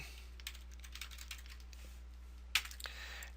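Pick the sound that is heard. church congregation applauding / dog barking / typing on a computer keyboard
typing on a computer keyboard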